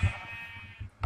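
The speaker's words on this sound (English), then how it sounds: "I got a sheep." A Minecraft sheep gives a short, buzzy, nasal bleat that holds steady for about a second, loud and close, with a brief low thump at the start and again at the end.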